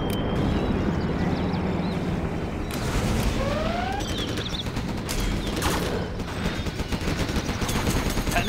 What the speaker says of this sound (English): Our miniguns will destroy the enemy